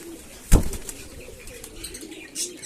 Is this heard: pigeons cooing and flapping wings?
yes